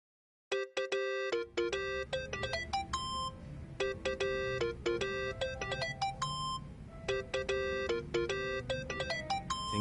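Video game phone ringtone: a bright, repeating electronic melody of bell-like tones, loud and steady, with no talk over it.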